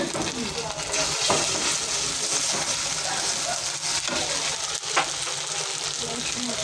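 Onions sizzle steadily in hot oil in a pan, with ginger and garlic paste stirred in, giving a constant close crackle that runs the whole time with faint stirring scrapes and no talking.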